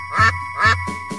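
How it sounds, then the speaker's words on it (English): A duck quacks three times, evenly spaced, in a children's counting song about five little ducks going out one day, with a steady musical tone underneath. "Mother duck called with a quack, quack, quack."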